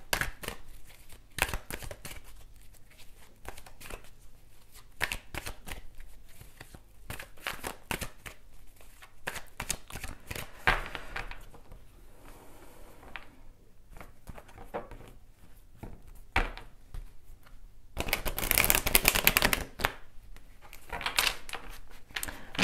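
Tarot cards being shuffled and handled at a reading table, with bursts of quick papery flicks and riffles, a dense rush of shuffling near the end, and no talk over it.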